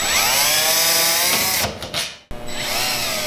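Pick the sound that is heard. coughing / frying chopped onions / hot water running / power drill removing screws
power drill removing screws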